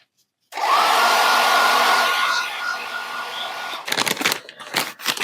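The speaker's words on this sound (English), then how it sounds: "you can always use your hair dryer" A hair dryer switches on suddenly and blows with a loud, steady whoosh for a few seconds, then cuts off, followed by brief rustling and handling noises.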